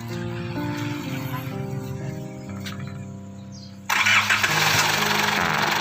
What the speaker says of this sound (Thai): สตาร์ทเครื่องยนต์ติดเรียบร้อยนะครับ